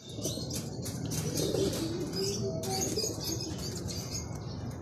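Wings flap and clatter as pigeons arrive and land nearby at a training release in Lucena, with chirps and soft coos over a steady outdoor hum.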